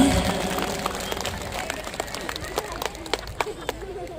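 An audience at a large Ramadan religious gathering breaks into applause that starts loud and gradually thins out into scattered claps and crowd murmur over a few seconds.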